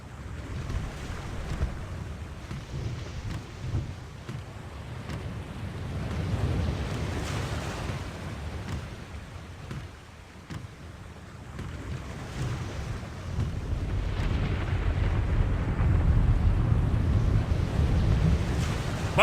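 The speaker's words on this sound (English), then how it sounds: "The storm is closing in." A video-game storm at sea in The Longest Journey: a continuous roar of wind and crashing waves that swells louder toward the end, with no distinct thunderclap and no talking.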